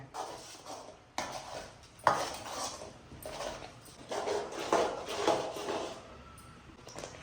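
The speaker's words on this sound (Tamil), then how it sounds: "அப்படியே இந்த எண்ணெயில இந்த மசாலாவை அப்படியே பிரட்டிக்கலாங்க" A utensil stirs and scrapes ground masala in oil around a pan for tomato kulambu in irregular strokes, with occasional metallic knocks against the pan.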